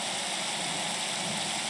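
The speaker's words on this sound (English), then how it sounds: "That storm's closing in. This drizzle's about to turn ugly." Steady storm rain and drizzle in the game And Then There Were None, a dense even hiss of falling water with no distinct drops, moderately loud and unbroken throughout.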